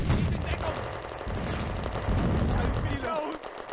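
Gunfire in the video game Firefight during an Eastern Front battle at Kulikova Ridge in June 1941, with rapid machine-gun bursts and heavy booming shots rumbling continuously under commands shouted in German.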